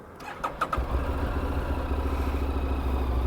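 A 2024 Morbidelli MBP T1002VX V-twin adventure motorcycle cranks with a brief starter clatter, then settles into a steady, deep, close idle.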